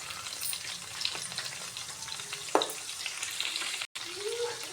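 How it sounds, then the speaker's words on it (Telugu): Cashews, bay leaf, carrot pieces and mint fry in oil in a pan for bagara rice, a steady close sizzle with an occasional stirring scrape. "మంచిగా ఫ్రై అవ్వనివ్వాలి ఇప్పుడు."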